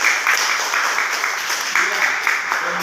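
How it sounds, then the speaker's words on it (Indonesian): Students in a classroom clap together in a dense, steady round of applause lasting the whole moment, fairly loud and close, with no clear talk over it. "Bagus, silakan berikan tepuk tangan."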